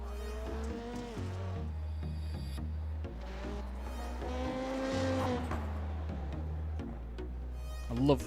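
Rallycross race cars at Iowa drone continuously with shifting engine pitch and changing gears, and a sharp tire squeal breaks in near the end. The sound is moderately distant and has no talk over it.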